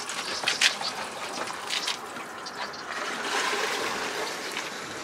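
Water drains away after a motorhome toilet cassette is rinsed at a campsite emptying point, giving a steady gushing, gurgling flow close by that swells slightly toward the end.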